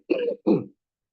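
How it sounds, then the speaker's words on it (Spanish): Two quick, close throat-clearing coughs in a row, each a short rough burst, followed by silence. "Permítame toser."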